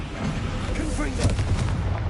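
Fire-blast spell explosions from the Confringo spell in Hogwarts Legacy, several bursting blasts layered over a constant rumbling battle din, with a voice calling out over the noise.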